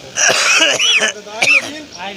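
A few harsh coughs and throat-clearing bursts, close and loud, in quick succession.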